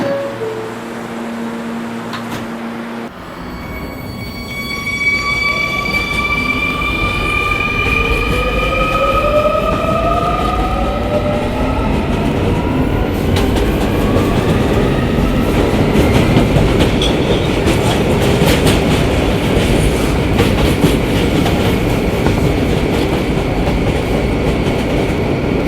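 An R220 subway train on the 11 local runs along the rails with a steady loud rumble and clatter, rising wheel squeal and whining tones building as it pulls away and holds speed.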